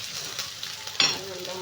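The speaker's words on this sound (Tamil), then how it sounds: "பூண்டு நல்லா பொரிஞ்சிருச்சுங்க, பார்த்தீங்களா?" Garlic frying in oil in a home kitchen, a close, steady sizzle with a brief clatter of stirring partway through.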